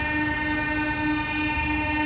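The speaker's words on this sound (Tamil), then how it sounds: "அங்கேருந்து ஏதோ ட்ரெயின் வேறு வந்துட்டுருக்கு." At dawn, a passing train blows a loud, sustained horn chord over the rumble of the moving cars, holding steady and near for the whole stretch, with no speech.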